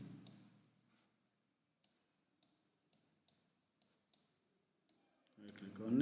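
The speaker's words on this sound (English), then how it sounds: "So we'll click on next." Mouse clicks on the Next button of an Active Directory installation wizard, about eight crisp, isolated clicks spaced roughly half a second apart in a quiet room, ending as a voice starts talking.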